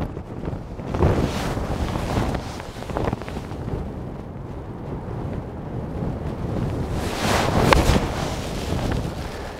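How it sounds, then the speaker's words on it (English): Strong wind gusting across an open links golf course on the Scottish coast, buffeting the microphone in a continuous rushing roar that swells and eases, with louder gusts near the start and toward the end. "The wind is playing havoc."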